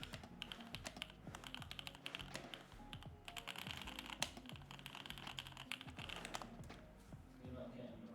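Rapid typing on a heavy mechanical keyboard, a dense run of clacky keystrokes with occasional heavier thocks, close and steady, with quiet voices in the background.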